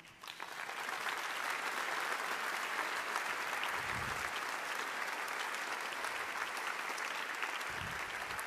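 Sustained applause from a theatre gala audience at an awards evening, steady and full throughout, with no voices over it.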